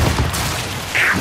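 Gunfire aimed at the player in Gears of War 5 during a Guardian match, a dense low rumble of shots and booms throughout with a brighter burst near the end.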